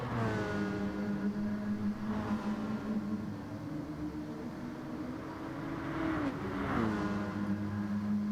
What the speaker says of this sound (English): Dimon, he's giving it full beans here, giving it full revs